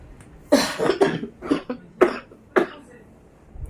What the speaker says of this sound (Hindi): अभी भी बनी हुई है खांसी